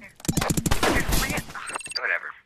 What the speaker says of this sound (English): There's that guy still trying to snipe us.